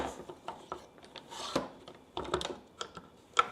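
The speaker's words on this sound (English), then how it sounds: "take this clamp that slides into the bottom rib here, slide it all the way in, and give it a quick clamp" A metal clamp sliding into the bottom rib of a track saw rail and locked down: soft scraping and rubbing with scattered small clicks and taps, close and quiet, ending in a sharper click.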